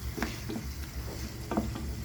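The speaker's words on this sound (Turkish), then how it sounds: "Şöyle güzel bir melemen yapıyorum kahvaltıya" Steady sizzling of menemen, Turkish eggs with vegetables, cooking in an uncovered pot, with a few soft scraping and stirring knocks over the hiss.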